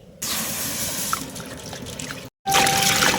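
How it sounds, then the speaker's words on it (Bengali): Water poured into a cooking pot at an outdoor village kitchen, a steady close splashing stream that breaks off briefly near the end and then resumes louder. "বন্ধুরা জলটা ঢেলে দেবো"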